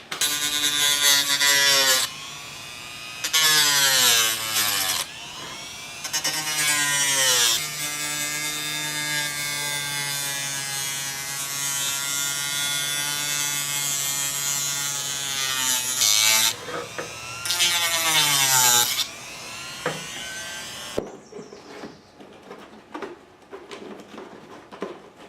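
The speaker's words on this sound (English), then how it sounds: "This is a little bit more delicate, so I'm going to try something in my rotary tool or Dremel." A Dremel rotary tool cutting a fiberglass seat pan for a Suzuki GS550 cafe racer, a high whining buzz that repeatedly spins up and drops in pitch as it bites in, close and loud, then stops abruptly near the end.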